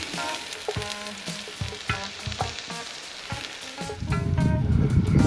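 Onions and mushrooms sauteing in a pot on a grill, a soft sizzle broken by repeated scraping and stirring clatters of a utensil against the pot, swelling into a louder, steady sizzle at the end.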